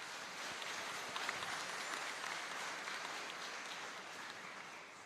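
Congregation in a chapel breaking into steady, sustained applause, dense clapping filling the room at an even level for the whole stretch with no talk over it.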